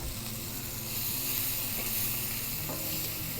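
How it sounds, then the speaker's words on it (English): Diced onion and green chilies sizzle in hot oil, a steady close frying hiss with light stirring scrapes, no voices. "We will saute our onions and garlic now"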